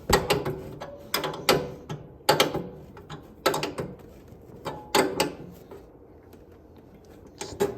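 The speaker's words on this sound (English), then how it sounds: "Take a 7/16 wrench, go ahead and tighten it down." A 7/16 wrench tightening the throttle bracket bolt on a PRC kart, heard as roughly eight sharp metallic ratcheting clicks in irregular bursts, close up with no talking.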